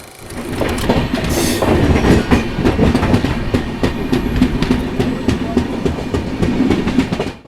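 The Patliputra LTT Superfast Express departs Danapur station, heard from aboard in 3rd AC. A loud, steady rumble carries rhythmic clickety-clack wheel beats throughout, with no voices.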